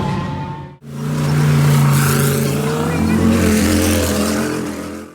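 A race car engine roars loud and close on the track at the FIA Motorsport Games, holding a steady, powerful drone after a brief quiet moment at the start.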